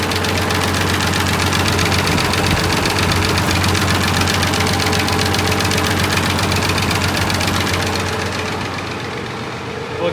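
A Farmall 706 tractor engine idles steadily and loud up close, a continuous rumble with a slight rhythmic knock running through it, fading a little near the end.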